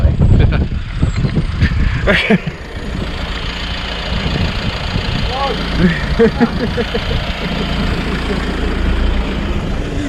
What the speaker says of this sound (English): Excuse that tractor noise in the background as well.